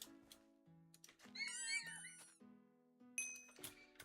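Horse whinny in the Minecraft RPG server Wynncraft, a bright, warbling neigh rising and falling for about a second amid blocky game sound effects and chimes, heard clearly at moderate volume.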